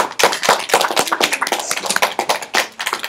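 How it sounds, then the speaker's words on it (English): A classroom of students gives a burst of applause: dense, uneven clapping from many hands, close and loud, holding steady for a few seconds without talk. "now you can do your favorite applause"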